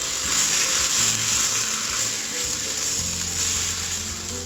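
Romaine lettuce leaves stir-frying with fermented soybean curd and chopped garlic in a hot pan, giving a steady, broad sizzle that stays fairly loud and even throughout, with a few soft clatters of the pan underneath and no talking.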